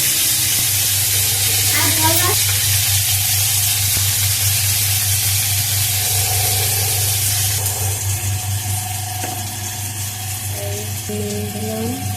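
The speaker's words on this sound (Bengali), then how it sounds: "আজকে আমি নিম বেগুন ভাজা করছি" Neem leaves and eggplant frying in a pan, a loud, continuous hiss and sizzle with a low steady hum beneath and a few faint chirpy tones over it.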